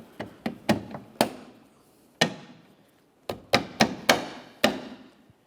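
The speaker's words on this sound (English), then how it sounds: "You may have to tap lightly." Light taps seat a Toyota Corolla outer tail lamp assembly into place: about ten sharp knocks in uneven clusters, close and clear, each ringing briefly through the car body with short pauses between them.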